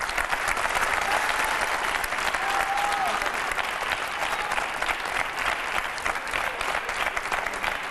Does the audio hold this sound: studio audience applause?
yes